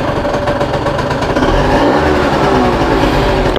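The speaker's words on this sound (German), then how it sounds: "Na, dann wollen wir doch mal einen Kaltstart machen," Scooter engine cold start, a small motor catching and then revving and idling unevenly, loud and close with a rough, pulsing rattle.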